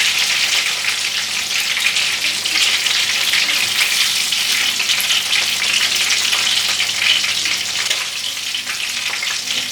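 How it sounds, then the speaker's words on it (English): Steady, loud sizzling of food frying in a pan, crackling continuously throughout with no talking. "then start frying the others"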